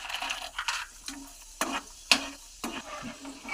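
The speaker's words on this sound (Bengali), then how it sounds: "এই কড়ার মধ্যে তেল রয়েছে, আর এই যে বাদাম নিয়েছিলাম, আর বাদামগুলো ভাজবো।" Peanuts stirred in hot oil in a wok, giving soft sizzling and a series of scraping stirs with a few sharper clinks, fairly quiet and with no voices.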